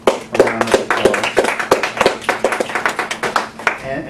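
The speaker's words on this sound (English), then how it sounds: "I want to thank you again for coming out and give you a round of applause." Small audience at an author talk claps in a brief round of applause, close and fairly loud with distinct, rhythmic individual hand claps from a few people.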